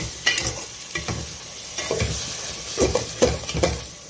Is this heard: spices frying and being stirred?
yes